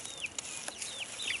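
Chickens kept in a Back to Eden garden, heard as a few short, high clucks and chirps scattered over a faint outdoor background, with no one talking.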